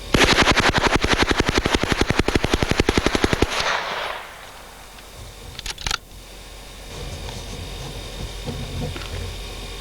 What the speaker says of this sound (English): This is a burst to show controllability of this very lightweight weapon.